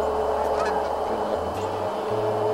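Geese honk outdoors during a goose hunt, with several drawn-out honking calls at moderate distance over a steady background hiss.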